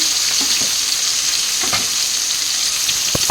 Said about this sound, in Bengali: এই যে মাছ ভাজা বসিয়ে দিলাম